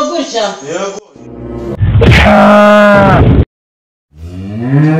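Cattle moo between bursts of talking, one long, loud, close lowing call standing out clearly after brief speech, followed by a pause and more voices.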